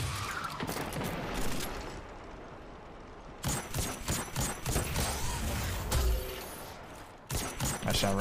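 Destiny 2 gunfire during a Grandmaster Inverted Spire run: bursts of rapid shots in clusters, loud and close, with a player talking between them.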